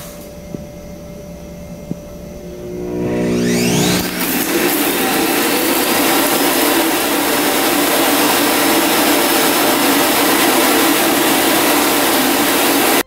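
A robot vacuum cleaner, Ewant Edison2 Plus, starts up after a few beeps, then a steady, loud whirring hum runs continuously and evenly.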